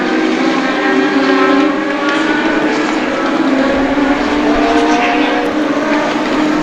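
Legend race cars roar around New Hampshire Motor Speedway, their engines droning with rising and falling whines as several cars pass close together, loud and continuous throughout.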